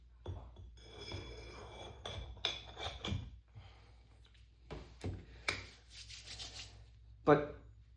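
A blade is rubbed across a Hindostan sandstone sharpening stone, giving repeated close gritty scraping strokes in uneven bursts with brief pauses between them.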